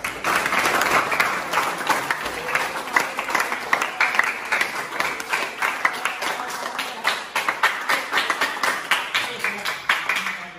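Audience applause after an introduction of a religious teacher at an Islamic boarding school evening gathering, a steady stretch of many hands clapping, moderately loud and sustained for about ten seconds.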